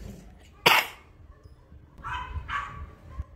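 A dog barks a few times at moderate distance, one sharp bark followed by a couple of softer yips, over quiet background noise.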